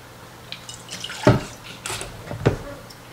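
Vinegar poured into a container while mixing a homemade glass and all-purpose cleaner, heard as a few short splashy liquid bursts, with two clearer pours standing out, close and fairly quiet with no talking.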